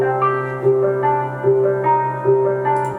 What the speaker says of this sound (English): I added another bell in here, and it's the same pattern as the very first melody I showed you